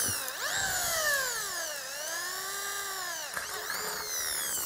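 A Dongcheng electric drill runs close by with its motor pitch sweeping up and down as it speeds and slows while drilling, a whining, continuous sound with a brief hitch partway through.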